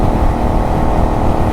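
Benelli 752S motorcycle cruising at 70 mph in sixth gear around 5,000 rpm, a loud, steady engine drone blended with heavy wind rush, constant and close with no voices.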